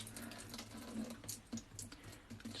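Cooking water drains from a sieve into a kitchen sink while making Mexican chicken stew, a steady close splashing rush with a few louder spatters and no voices.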